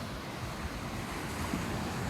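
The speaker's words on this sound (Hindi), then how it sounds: "ये सफ़ेद सफ़ेद जो लहरें आ रही हैं कितनी खूबसूरत लग रही" Sea waves wash onto Railay Beach in Thailand at night, a continuous broadband rush of surf with soft wind noise, steady and moderately loud with no voices.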